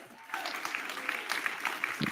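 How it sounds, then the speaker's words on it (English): An audience at a political campaign event claps steadily for about two seconds after a brief quieter moment, a dense, fairly loud patter of hands with some crowd noise and possible voices mixed in. "Move past the claps"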